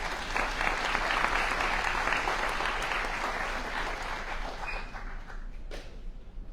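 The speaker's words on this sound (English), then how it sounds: "We can applaud for that." An audience at a town hall on Social Security claps steadily for several seconds, full and even, then thins and tapers off near the end.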